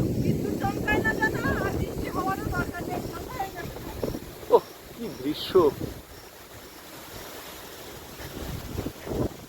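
Wind blows hard before a storm on the water in the Sundarbans, a rough, gusty rush buffeting the microphone, with people talking over it early on and quieter gusts afterward.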